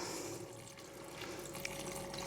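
Liquid pours steadily into a jar of pickled vegetables, probably cauliflower, coleslaw or beetroot, seasoned with mustard and celery seeds, making a continuous close trickling, gurgling wash with no talk.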